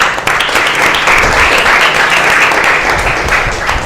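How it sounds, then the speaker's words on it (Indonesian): Classroom audience clapping after a group deliberation presentation in an Islamic religious education class, a dense steady round of applause lasting a few seconds, close and fairly loud. "Oke, tepuk tangan."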